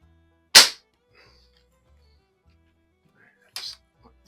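A Crosman .177 air gun fired at a 7-yard target: one sharp, loud crack near the start, then a fainter snap or impact about three seconds later, otherwise quiet.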